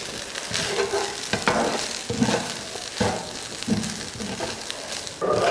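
Soya keema rice gets stirred in a pan over a low flame, a soft steady sizzle overlaid with rhythmic scraping strokes of a spoon against the pan, close and without speech.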